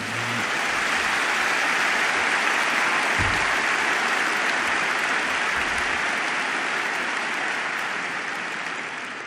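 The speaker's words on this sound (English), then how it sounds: "Now you can go wild with applause for the group." A large audience at a Berkshire Hathaway annual shareholder meeting applauds, a loud, dense wash of clapping that fills the whole span and tapers slightly at the end, with no talking.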